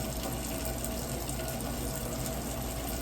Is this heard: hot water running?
yes